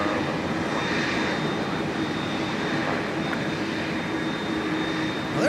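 A Delta Airbus A330 airliner taxiing at Minneapolis–St. Paul airport gives a steady, distant jet engine rumble and whine with a faint high tone, constant throughout.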